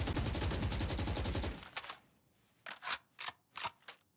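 Gunshots in the video game Valorant during a tournament match: a fast sustained automatic burst, then a handful of separate single shots spaced out after a short pause, crisp and close.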